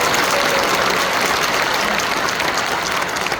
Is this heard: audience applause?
yes